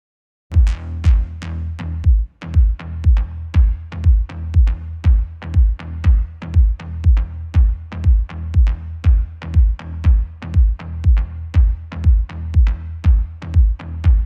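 Kick drum and bass play together with no sidechain compression, giving a dense, loud, booming low end. Each kick thump lands on a regular beat over the continuous bass, and no one speaks.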